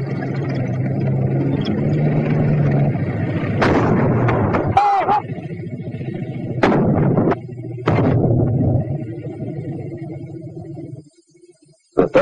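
Sharp, loud reports from a WWII-era 37mm anti-tank gun firing at a tank, several spaced blasts over a rumbling engine-like background, with a voice talking.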